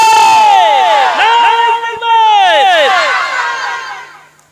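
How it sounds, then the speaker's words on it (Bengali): Crowd at a Bangla Islamic sermon shouting the takbir chant in response to the preacher, loud massed voices rising in unison, a brief dip then a second sustained swell that fades out. "তাকবীর দেন আর হাত উঁচু করেন নারায়ে তাকবীর"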